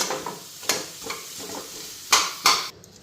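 Boiled potatoes mashed by hand into bharta in a bowl: soft squelching and stirring, punctuated by a few sharp clinks of utensil against the dish, close by with no one talking.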